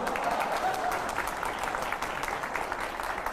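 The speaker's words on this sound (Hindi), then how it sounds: "तालियां थोड़ी कम पड़ चुकी हैं।" Studio audience at a Hindi political TV debate show breaking into applause: steady, sustained clapping from a sizable crowd throughout, fairly close and even in level.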